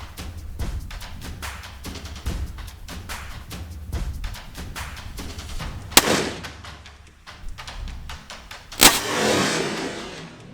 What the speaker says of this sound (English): Oh man, I hate shooting off of sticks.